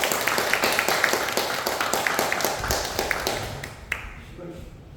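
An audience in a church seminar hall claps for a guest pastor coming up to speak, a brisk, rhythmic run of hand claps that thins out and fades toward the end.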